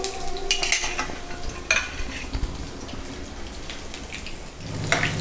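Mustard seeds, cumin, garlic, dried red chillies and lentils fry and crackle in hot oil for a tempering, with steady sizzling, sharp popping bursts and stirring scrapes in a pan, close and loud, with no talk.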